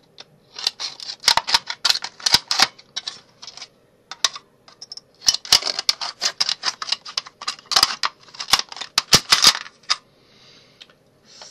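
Sharp, irregular clicking snips of a metal drink can being cut along its seam line with scissors, coming in quick close-up bursts with brief pauses between them.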